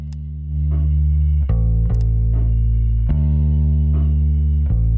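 A bass track recorded through a bass amp microphone: sustained, loud low notes that change pitch a few times, with faint drum hits bleeding in softly behind them and no voices.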